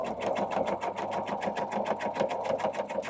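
A sewing machine runs at a steady pace, stitching the corner of a pink quilt block, its needle thumping in an even rapid rhythm for a few seconds, close and loud with no talk.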